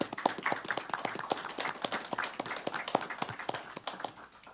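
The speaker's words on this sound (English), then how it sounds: "We can give them a little round of applause." Scattered clapping from a small group of attendees at a county board of supervisors meeting, a brief, uneven round of claps that stays fairly sparse and close.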